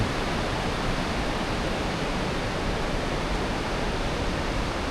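Steady, loud rush of water flowing out of a cave, a continuous broadband roar like a torrent pouring out, unbroken for the whole stretch with no voices.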